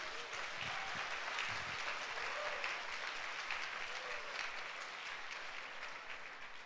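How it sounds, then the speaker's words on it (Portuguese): A church congregation at a Sunday service applauds in a steady, sustained wash of clapping that fills the room for several seconds before easing slightly at the end. "Então dê um aplauso a Jesus."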